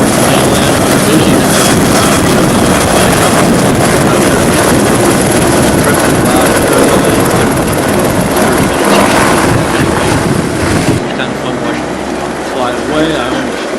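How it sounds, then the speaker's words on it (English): Helicopter lifting off and flying away toward the mainland from Avalon, a loud, close rotor roar with heavy blade wash that holds steady, then drops off sharply as the aircraft departs. "We were lucky enough while we were there to see some people board a helicopter and watch it fly away."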